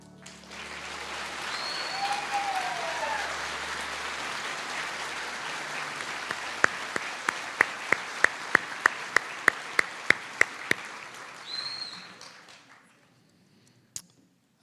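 A graduation audience keeps up a long wash of applause with a few whistles. Several sharp, close claps ring out in the middle, then the applause fades away to near silence, broken by one last clap.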